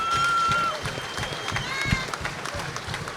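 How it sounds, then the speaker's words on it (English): A crowd applauds at a fight event, steady clapping and murmuring under a close voice talking over it. "we all give him a round of applause"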